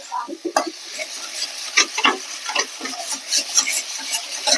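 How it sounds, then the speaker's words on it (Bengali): Spices with turmeric and salt are stir-fried in a hot pan, a steady sizzle broken by scraping strokes of a spatula, close and fairly loud with no talking. "মশলাটা এবার ভালো করে কষে নি।"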